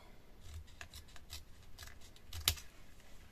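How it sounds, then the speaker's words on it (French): Scissors cutting folded card paper for a handmade greeting card, a series of quiet, crisp snips in an irregular rhythm, close up, with one sharper snip near the end. "Et là on va venir découper. Donc, je vais me découper à peu près ici."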